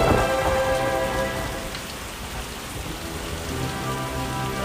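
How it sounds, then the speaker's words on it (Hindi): Rain in a wind and rain storm drums hard and close at first and then settles into a steady, dense patter with a low rumbling undertone. "तेज हवा, बारिश,"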